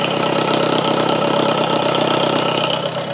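1995 Grand Prix demolition derby car idling loud and rough through a leaking exhaust, a steady close throbbing rumble with no voices.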